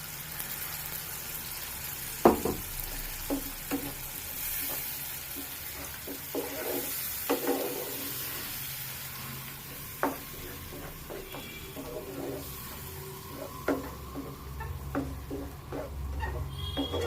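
Mint rice mixture stirred in a hot pan off the heat, with soft sizzling under scattered scraping clicks and taps of a spoon, close and steady.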